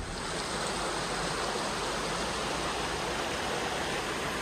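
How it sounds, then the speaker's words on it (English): Skate Creek flowing through a dense mossy forest, a steady, full rush of water heard close by and alone, unchanging throughout. "This is all along the Skate Creek."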